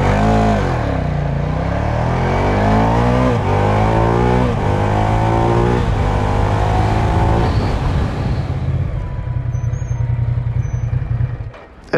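A Ducati Diavel Carbon motorcycle accelerates hard while riding, its engine roaring loud and near through rising gear pulls, then settling to a lower steady drone before fading off.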